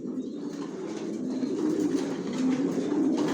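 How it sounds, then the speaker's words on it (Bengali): Racer pigeons of the Janssen line coo in a loft, a low, steady, overlapping murmur of calls from several birds nearby, with no talking. "বিভিন্ন প্রাইজের, বিভিন্ন দামের কবুতর আছে আমার লফটে।"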